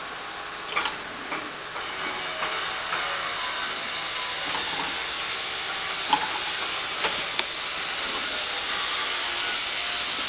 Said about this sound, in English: I'm actually gonna take the onion now and put it right on the skillet.